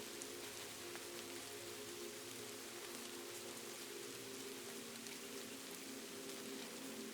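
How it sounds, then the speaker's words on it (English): Steady, even rain falls at night in a calm city setting, a dense continuous patter on surfaces with no voices and no breaks. "and the rain falls"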